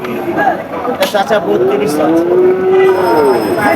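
A Sahiwal bull moos loudly nearby at a cattle market, a long drawn-out low call rising and falling, with voices and market chatter in the background.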